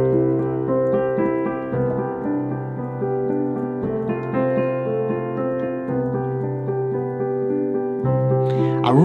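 A beginner-level right-hand piano pattern plays through a chord progression, with sustained chords and steady broken-chord notes ringing clearly and unhurried, ending with a brief brighter flourish.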